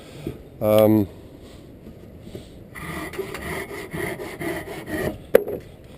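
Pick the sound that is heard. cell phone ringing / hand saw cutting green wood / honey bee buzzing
hand saw cutting green wood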